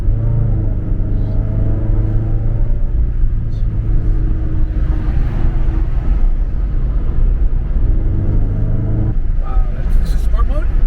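A Scion FR-S fitted with a throttle response controller pulls in race mode, a low engine rumble building and easing inside the cabin while people talk over it.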